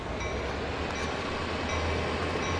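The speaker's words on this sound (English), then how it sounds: "There's three locomotives running the train." Three locomotives hauling a train in Train Sim World 2, a loud, steady rumble of engines and rolling stock with faint clanks, no talking.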